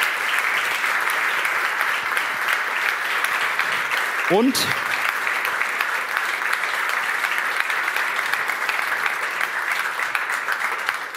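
Sustained audience applause at a science, politics and activism award ceremony, a dense steady wash of clapping throughout, with a brief spoken word cutting in near the middle.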